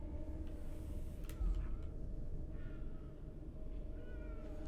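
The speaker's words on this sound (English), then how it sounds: "Was that a cat?" A cat meows a few faint, short times over a steady droning background hum during a Dragon Age: Origins live stream.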